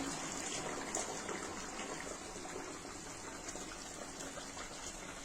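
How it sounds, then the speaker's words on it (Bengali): Hot water poured steadily into a simmering Bengali chhanar kofta curry, a continuous gushing, trickling pour heard close and fairly quiet throughout, with no talk. "এবার এবার একটুখানি গরম জল দিয়ে দিই"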